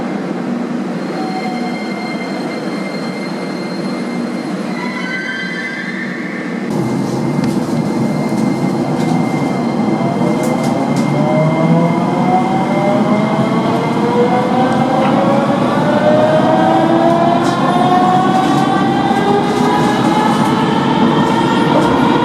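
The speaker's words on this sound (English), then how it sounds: "the trains themselves didn't really get to that much speed" Sofia metro train ride heard from inside the car: a steady rumble of wheels on rail with rising whine tones as the train accelerates, growing louder after a brief quieter start.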